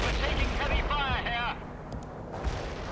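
Artillery barrage in the Cold War game World in Conflict booms and rumbles as a steady, heavy roar of distant explosions. Several low thuds come through, and radio voices talk over the barrage.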